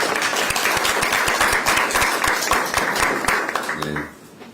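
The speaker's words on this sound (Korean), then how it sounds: "문대리 의원에게도 큰 박수를 부탁드립니다." Audience applause at a political party rally in Korea, a dense wash of clapping with some crowd voices that carries steadily and then fades out near the end.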